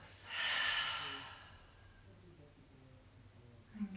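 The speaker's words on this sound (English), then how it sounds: "Exhale through the mouth." One long, soft breath is let out through the mouth during a breathing exercise in a yoga session, a close airy sigh that fades into quiet room tone.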